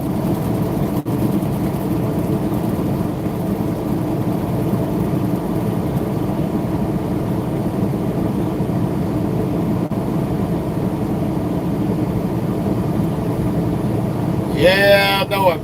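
A worn International truck engine drones steadily in a low, continuous rumble heard from inside the cab, with brief rising whines near the end.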